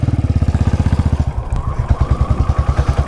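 A Royal Enfield Classic 500 Desert Storm, a 500cc single-cylinder motorcycle, idles loud and close with a steady, thumping low pulse and some mechanical clatter, with no talking.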